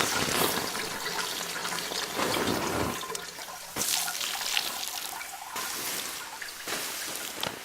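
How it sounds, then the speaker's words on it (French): Water splashes and pours in a tub as Karim washes his hair, with continuous sloshing and running water close by, broken by a few short pauses and scoops. "Karim qui se lave les cheveux dans le baquet."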